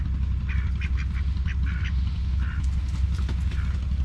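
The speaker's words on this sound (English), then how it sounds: "So that's some duck." Ducks quack at an outdoor spot in Warri City, Nigeria, giving several short nasal calls in loose bursts, moderately near, over a loud steady low rumble of background noise.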